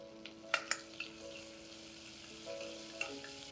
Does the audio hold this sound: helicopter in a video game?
no